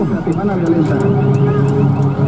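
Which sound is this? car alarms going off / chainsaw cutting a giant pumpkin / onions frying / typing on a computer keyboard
car alarms going off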